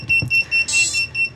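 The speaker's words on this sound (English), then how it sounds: "That beeping is not going to stop." A drone's onboard buzzer beeps after its battery is plugged in with no controller connected, a string of short, loud electronic tones in an uneven rhythm, heard close and alone.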